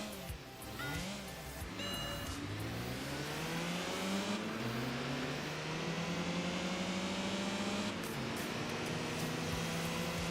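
A small carbureted 1.2-liter inline-four Honda race car laps Tsukuba circuit in a racing game, its engine droning and climbing through repeated revs and gear shifts, loud and continuous throughout.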